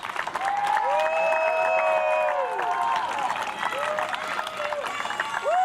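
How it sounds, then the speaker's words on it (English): A crowd at a high school boys soccer senior night claps steadily for eight seniors, with scattered cheers and whistles over the dense applause. "One more round of applause for these 8 seniors."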